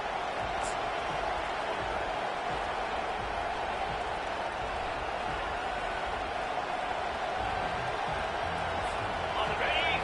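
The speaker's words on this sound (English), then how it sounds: "This crowd, full throat, splitting the eardrums and letting him know it's going to be a long day." A packed football stadium crowd roars loudly in a dense, unbroken wall of noise that holds steady for the full ten seconds.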